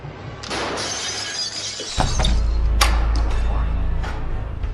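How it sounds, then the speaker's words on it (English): Glass shatters in a loud crash with a heavy low thump, followed by tinkling shards and rumbling noise for several seconds, set in a scary horror scene. "they hear a crashing sound like broken glass"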